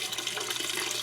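Water flows steadily through the pipes and tank of a spare-bedroom hydroponics setup, a constant close hiss and trickle like a running tap with no pauses.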